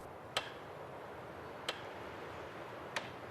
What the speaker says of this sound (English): Put the saw to one side and knock in the wedge.